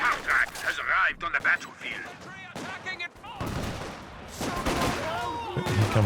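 Sniper and tank hunter rifle fire from the Company of Heroes 2 video game, a string of sharp, loud shots and bursts over the clatter of battle, with talk running throughout.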